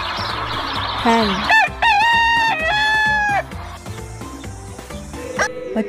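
A rooster crows loudly several times in long rising-and-falling calls, with hen clucking and other farmyard chatter around it.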